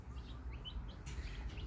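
Young chicks raised with a mother hen, a few faint high chirps scattered over low background rumble.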